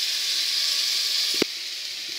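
Cubed red kuri squash sizzling in a saucepan, a steady bright hiss with one short pop partway through and no talking.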